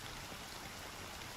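Rain falls steadily in the video game Honkai: Star Rail as a faint, even hiss of dense drops with no talking.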